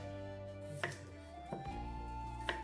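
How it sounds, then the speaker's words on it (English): Knife cutting red potatoes on a cutting board, three distinct chops spaced about a second apart, close and fairly quiet over a steady background hum. "Cut up our red potatoes."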